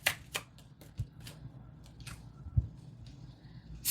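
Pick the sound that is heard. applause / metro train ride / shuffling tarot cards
shuffling tarot cards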